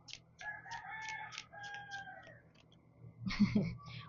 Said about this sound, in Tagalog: Buhay na buhay yung manok. Tanghali na buhay pa yung manok